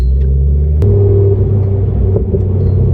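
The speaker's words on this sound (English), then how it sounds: "this car pops and this burbles a lot nicer since the actuator's been fitted" A track car's engine rumbles loud and close from inside the car, a deep burbling exhaust with a sharp pop or crack near the start and smaller crackles later.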